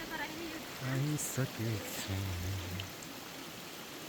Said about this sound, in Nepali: राम्रो बगेको खोला